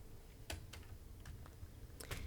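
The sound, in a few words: typing on a computer keyboard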